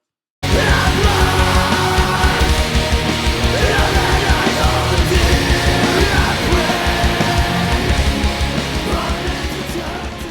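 Loud metal band demo with harsh pitched screamed vocals over dense guitars and drums, continuous throughout and fading slightly at the end.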